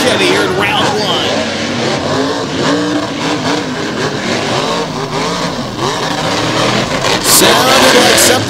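Ford and Chevy trucks roar side by side in a drag race at West Lebanon, engines revving loud and continuous, with crowd and announcer talk layered over the steady engine din.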